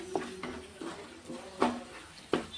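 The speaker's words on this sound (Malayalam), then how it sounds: "നല്ലവണ്ണം ഇളക്കി കൊടുക്കണം." Lime pickle is stirred in a metal pan, with a series of sharp clinks and scrapes from the spoon against the pan over a faint background, close and without voices.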